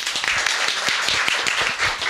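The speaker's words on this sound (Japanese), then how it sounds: "はい拍手お願いします" An audience at a talk breaks into applause, brisk overlapping claps in a steady patter that carries on throughout, close and fairly loud.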